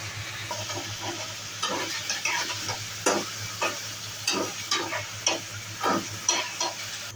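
Potato being stirred into frying bitter gourd with onion, ginger and garlic produces a soft sizzle under rhythmic spatula scrapes, about one every half second, over a low steady hum.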